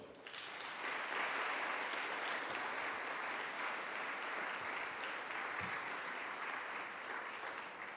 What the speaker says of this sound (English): can we please give a big round of applause to our friend Mark Kornblue